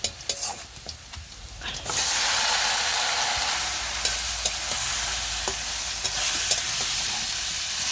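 Spiced beef is stirred into onions frying in a pan. Quiet scraping taps give way to a loud, steady sizzle at about two seconds, with irregular stirring clacks over it and no talking.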